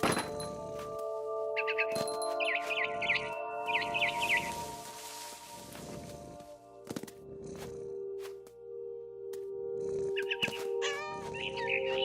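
Barn swallow chirps in bright repeated bursts in the video game What Remains of Edith Finch, heard in a few separate clusters over a steady musical game backdrop with soft thumps, no talking.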